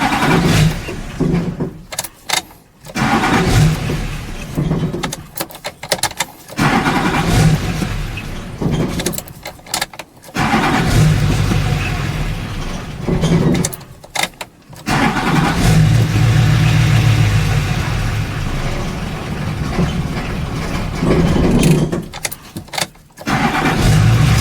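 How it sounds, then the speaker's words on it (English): A GMC Sierra pickup with a transmission stuck in second gear and a lit check engine light is cranked over several times, catching and settling into a loud, close idle with brief revs between restarts. "As you can hear, the engine runs and the check engine light remained on."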